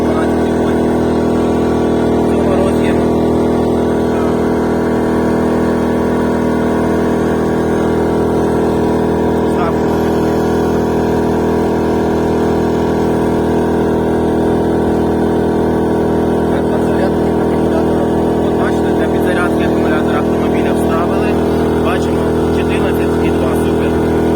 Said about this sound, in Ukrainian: І бачите, генератор тяне, все добре.